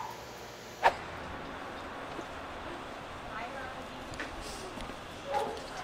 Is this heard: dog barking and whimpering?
yes